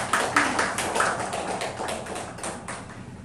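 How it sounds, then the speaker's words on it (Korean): A church congregation claps to encourage its choir: a quick run of sharp, overlapping hand claps that starts loud and gradually thins and softens over a few seconds. "박수로 격려하겠습니다."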